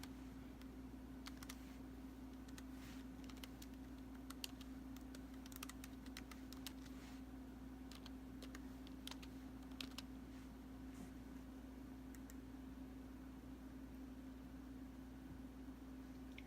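Fingers typing a name and email on a computer keyboard, a quiet steady run of clicks for many seconds over a constant low electrical hum, with no talking.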